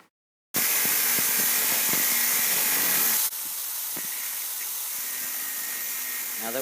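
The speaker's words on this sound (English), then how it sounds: "I'm going to cut that way with the angle grinder" An angle grinder cutting into a steel wrench for a homemade dagger, heard as a loud, continuous high-pitched grinding whine that starts abruptly, holds steady, then drops to a slightly lower, softer tone as the cut continues, close up with no talking.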